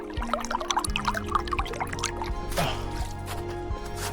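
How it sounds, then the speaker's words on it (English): A small creek trickling during the spring thaw, with soft, uneven drips and gurgles of running water, faint and close, and a little background noise. "there's a slight little bit of watery creek there, but it shouldn't be too bad because it's the spring thaw"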